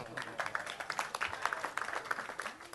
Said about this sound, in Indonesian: Tepuk tangan untuk Sabrang ya.